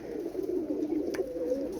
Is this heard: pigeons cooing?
yes